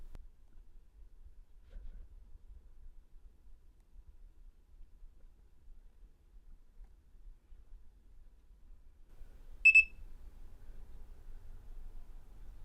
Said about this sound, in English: So you can hear the beep beep there, letting us know that it's getting going here.